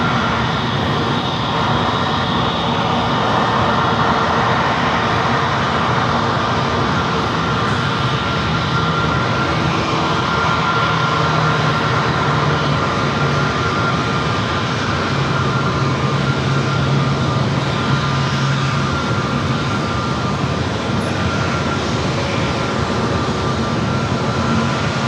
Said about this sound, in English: A320neo heading back to Denver.